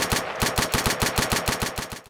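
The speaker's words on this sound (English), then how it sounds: "Sten" Sten submachine gun in a Minecraft guns mod firing a steady string of about fourteen sharp, evenly spaced shots, close and loud with no pause.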